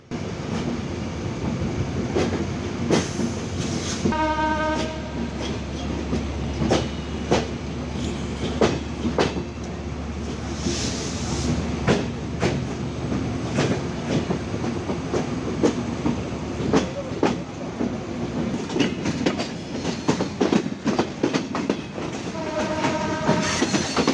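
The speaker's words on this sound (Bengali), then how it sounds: "চিত্রা এক্সপ্রেস ট্রেন ছেড়ে যাচ্ছে যশোর জেলার যশোর জংশন রেল স্টেশন" The Chitra Express train departs Jessore Junction station in Bangladesh, rumbling steadily with rhythmic clickety-clack of wheels on rails, and a horn sounds briefly near the start and again near the end.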